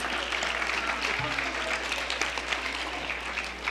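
Steady applause from an audience at a live cultural program in a temple hall, a continuous even patter of many hands throughout, with a faint voice briefly audible underneath.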